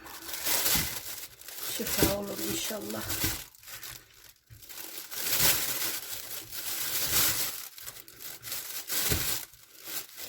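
A plastic oven bag crinkling and rustling loudly in irregular bursts as it is filled with pumpkin, with a brief spoken phrase partway through.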